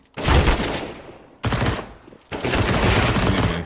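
Video game gunfire comes in three loud, close bursts of rapid automatic fire, each cut off sharply, the first fading into a long ringing tail and the last held steadily to the end.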